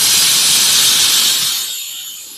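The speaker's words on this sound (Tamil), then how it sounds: "பருப்பு வந்து 4 விசில் விட்டுருச்சு." A pressure cooker cooking lentils for onion sambar releases a loud, sustained steam whistle, a broad rushing hiss that holds steady and then gradually fades as the release tapers off.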